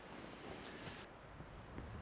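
Mistral wind gusting outdoors at a cold, high spot, a constant broadband roar buffeting the microphone with rising and falling gusts, no voices.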